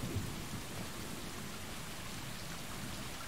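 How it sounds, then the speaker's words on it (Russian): Rain falls in a video game: a steady, dense hiss of downpour with a low rumble underneath, continuous and even for the whole stretch, with no voices. "Дождик идет."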